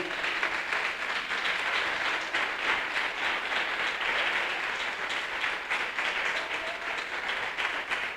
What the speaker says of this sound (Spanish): Dale un aplauso al Señor, que a él se quiere aplaudir.